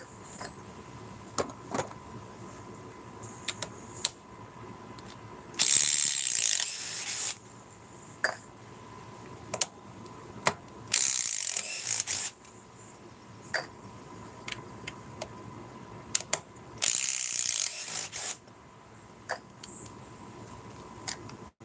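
A DeWalt 845 impact driver runs in reverse in three separate bursts of high, whirring motor whine. Short pauses and scattered clicks and handling taps fall between the bursts.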